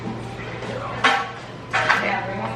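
Aguachile ingredients are mixed by hand in a kitchen bowl, with two clear clinks of utensil against dish rising over a steady low room hum and soft background rustle.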